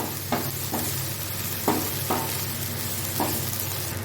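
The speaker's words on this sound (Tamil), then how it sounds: "இப்போது கொத்தமல்லி இலை போட்டு நல்லா வதக்கி விடலாம்" Coriander leaves and onion sauté in a pan for egg masala: a close, even sizzle with a low hum underneath and several clicks and scrapes from stirring.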